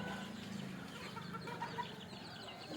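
Native country chickens cluck steadily at close range inside their coop, several birds overlapping in a busy chorus with no talking.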